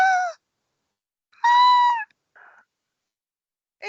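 A cat in the video game Stray meows several times, with two longer, clear meows followed by a short, softer chirp, each separated by silence and heard alone.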